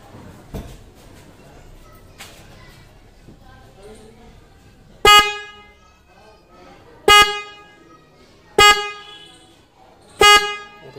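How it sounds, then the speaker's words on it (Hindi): A replacement car horn being test-sounded, giving four loud, sharp honks spaced about two seconds apart, each a short bright blast that cuts off cleanly, after a stretch of quiet background noise. "हमारा हॉर्न जो है बज गया है"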